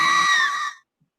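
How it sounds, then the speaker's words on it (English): A woman's shrill, dreadful scream rings out alone, loud and sustained for most of a second before cutting off into silence. "suddenly I heard a shrill and dreadful scream."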